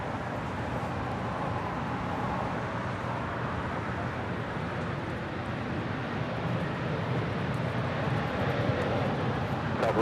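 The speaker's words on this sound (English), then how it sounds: "This is Cayman Airways Flight 481 departing to Georgetown on a MAX 8" A Cayman Airways Boeing 737 MAX 8 departing Los Angeles International Airport produces a steady broadband jet engine roar, distant and sustained, swelling slightly toward the end.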